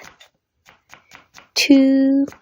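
A knife slices an onion on a cutting board with a few quick, light taps, followed by a short sharp tonal ring.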